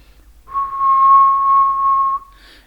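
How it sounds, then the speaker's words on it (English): A single steady, pure whistled tone held for about two seconds, close and clear, ending with a brief breathy trail. "So if I whistle, I can see that change here"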